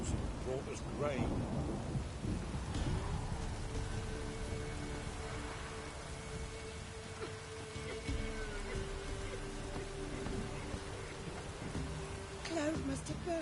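Thunderstorm and rain in the video game Witcher 3: a steady wash of heavy rainfall with low thunder rumbling underneath, sustained at a moderate level for the whole stretch.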